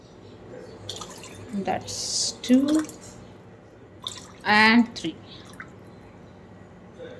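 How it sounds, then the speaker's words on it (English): Cups of water are poured into a pressure cooker for mutton biryani, two short gurgling pours a couple of seconds apart with a few drips, while someone talks between them. "I will add more water to it to consider this as the second cup and 1 more cup of water."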